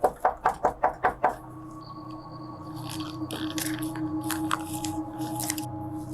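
Police knock firmly on the door of a house on a residential street for a welfare check: six loud, evenly spaced raps up close, followed by a steady background hum and faint scattered noises.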